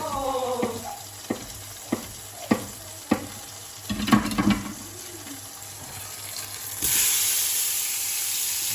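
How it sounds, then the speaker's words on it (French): Cut kidneys returned to a frying pan: a few sharp clinks and scrapes over a soft sizzle, then a louder, continuous hiss of frying near the end, with no speech. "Donc je vais le couper et je vais la repasser un petit peu dans la poêle."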